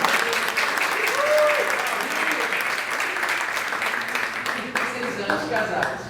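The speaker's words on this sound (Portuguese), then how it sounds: "salva de palmas para esse casamento" Sustained applause from an audience celebrating a couple's 35-year marriage, a dense steady wash of many hands clapping at once, with voices faintly underneath.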